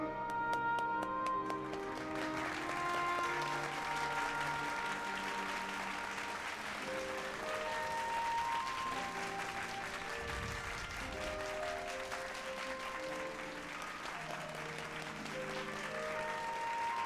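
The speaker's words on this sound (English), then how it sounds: "Clap, clap, clap." A crowd applauds in the video game Final Fantasy XIV, sustained clapping over an orchestral music score, steady and moderately loud throughout.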